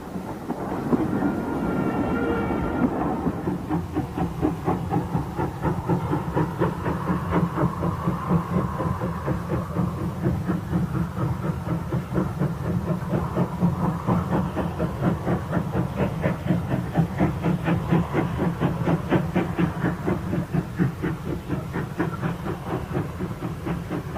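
A Southern Railway express steam locomotive, preserved by the National Railway Museum at York, runs steadily with a continuous rhythmic clatter of wheels, chuffing and hissing steam throughout.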